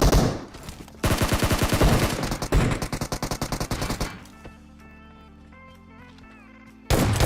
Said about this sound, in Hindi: वेयर हाउस से फायरिंग की साउंड आई थी